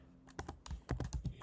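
Quiet keystrokes on a computer keyboard as a new username is typed: a short burst of uneven taps, close by, with no talking.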